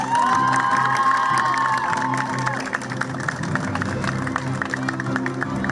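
A crowd cheers and applauds at a beach volleyball tour award ceremony in Mersin. The cheering is loud and steady, with whoops over a bed of clapping and a tonal sound in the first half.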